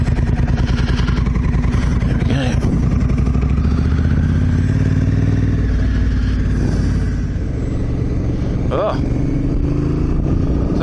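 A motorcycle engine idles loudly nearby with a continuous throbbing chug and clatter, while a voice speaks intermittently over it.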